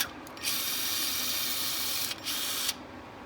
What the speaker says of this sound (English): So you can see that's running through the gearbox.